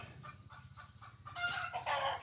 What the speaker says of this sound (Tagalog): Ito meron akong gansa.